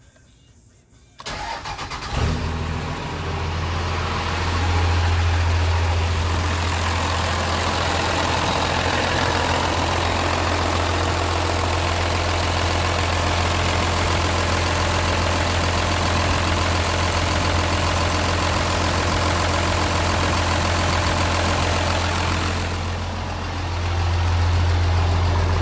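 A 1998 12-valve Cummins diesel with a freshly swapped HX Super 9 turbo cranks, fires up and settles into a loud, steady idle that runs on for over twenty seconds, close by with no talking.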